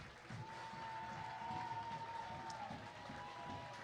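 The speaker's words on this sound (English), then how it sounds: "Huge applause for Steve Skonechny." A soccer crowd at a Stockade FC home match applauds a substituted goalkeeper leaving the field; distant, modest clapping and murmur across an open ground, under a steady tonal hum, with faint voices mixed in.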